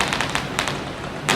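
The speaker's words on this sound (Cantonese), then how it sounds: "我可以坐喺呢度慢慢欣賞啲人放煙花嘅" Fireworks at a seaside beach give several sharp crackling pops in quick clusters, followed by a short lull and a final louder burst.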